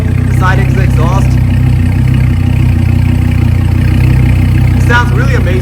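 A 2014 Dodge Viper GTS, its engine running through side exhaust, gives a loud, close, steady low rumble throughout, with a person talking over it.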